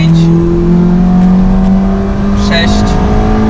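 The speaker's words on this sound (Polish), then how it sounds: "Uwaga, będę przyspieszać." A Ford Ka Plus accelerates hard through the gears in town, its engine droning loud and steady from inside the cabin with rising tone and a brief shift dip.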